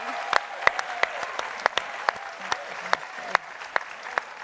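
Sparse clapping from a few hands, sharp scattered claps at an uneven pace over a quiet room murmur.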